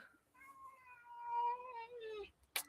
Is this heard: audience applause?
no